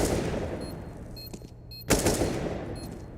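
Rapid gunfire rattles in Counter-Strike at a professional tournament match. Bursts of shots are led by one sharp, loud crack partway through, followed by a trailing echo, with no talk.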